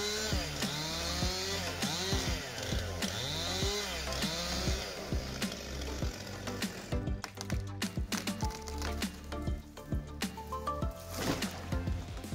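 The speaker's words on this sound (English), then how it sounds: "A modern chainsaw that takes on the challenge of cutting down giant trees with precision and power." A chainsaw revs and bogs repeatedly as it bites into wood, loud and close, with pitch swooping up and down in rhythmic cuts.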